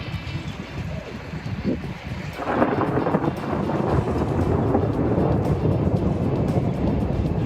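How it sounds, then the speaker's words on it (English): Thunder snow during a lake-effect snowstorm in Erie County, New York: a deep rolling rumble builds after a couple of seconds and holds loud and sustained, mixed with wind buffeting on the microphone. "Yep, that is thunder snow."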